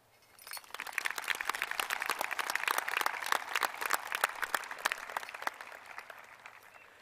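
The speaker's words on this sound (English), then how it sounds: "let's give a round of applause to the amazing educators who have helped us get where we are today" Audience applause at a high school graduation ceremony, fairly quiet and distant, rises quickly into a steady patter of many individual claps and then tapers off near the end.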